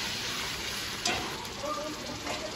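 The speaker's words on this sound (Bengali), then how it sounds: "রসুন বাটা দিয়ে আমি পেঁয়াজটাকে আবার ভালো করে ভেজে নিচ্ছি।" Sliced onion with garlic paste sizzles and crackles steadily in hot oil in a pan for a spicy mutton curry, with a brief stirring scrape partway through and no talking.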